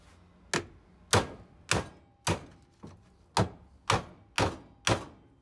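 Regular heavy thunks strike about twice a second, eight or nine sharp impacts in a row on an old pool pump as its seal is worked loose, with no talk.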